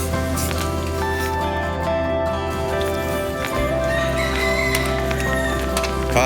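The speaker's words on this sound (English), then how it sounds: "The sound of roosters." Roosters crow amid a constant loud outdoor hum on the Kalalau Trail, the calls partly buried in the steady background noise.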